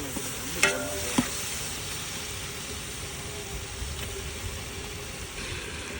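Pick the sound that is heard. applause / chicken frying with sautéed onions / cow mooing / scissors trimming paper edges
chicken frying with sautéed onions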